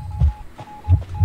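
Heartbeat warning cue in the game Identity V, two pairs of low thumping beats over a faint steady hum, with no speech.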